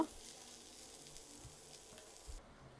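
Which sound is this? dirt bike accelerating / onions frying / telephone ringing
onions frying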